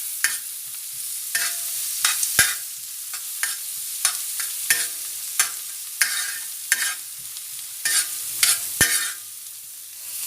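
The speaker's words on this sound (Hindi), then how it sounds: "इसको हल्का सा थोड़ा सा गुलाबी करेंगे प्याज को।" Sliced onions fry in hot oil in a pan for a tawa chicken dish, a steady sizzle broken by repeated sharp scraping strokes of a spatula stirring them, close and without talk.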